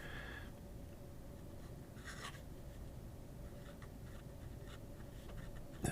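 A spring-loaded pen scratches slowly across paper in a quiet room, giving a faint, steady rasp with a few sharper strokes mixed in, and no voices.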